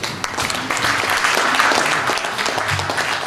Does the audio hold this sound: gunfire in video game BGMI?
no